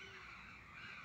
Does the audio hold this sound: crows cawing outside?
yes